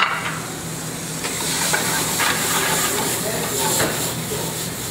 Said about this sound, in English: We'll let that saute up a little bit, just to get a little bit of flavor out of it